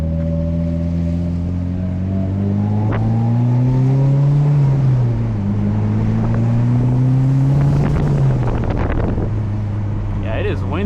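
A car engine rises and falls in pitch as it revs and accelerates, heard from inside the vehicle under steady wind noise, with brief voices near the end.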